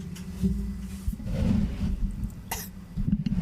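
Coughs and throat noises right against the microphone, a few rough bursts with breathy pauses between them.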